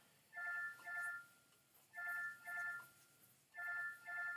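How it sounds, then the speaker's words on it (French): A telephone rings faintly in the background in repeated double bursts, three pairs of electronic trills separated by short pauses, with no talking over them. "Désolé si vous entendez le téléphone qui sonne."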